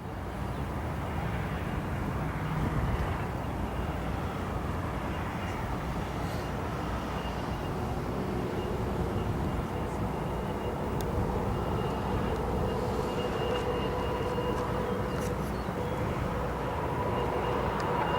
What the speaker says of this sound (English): There it is, that 787-10 arriving in from Tokyo,